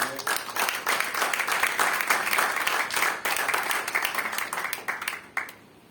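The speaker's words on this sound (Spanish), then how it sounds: "Aplauda al Señor." A church congregation at a Sunday school class claps together in a fairly quiet, uneven burst of applause that holds for several seconds before stopping abruptly.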